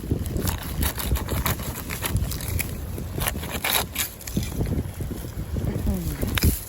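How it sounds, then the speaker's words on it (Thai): Strong wind buffets the microphone outdoors on the Danish seashore during a sea kale harvest, with rough, gusty rumbling and crackling bursts throughout. "ลมก็แรง"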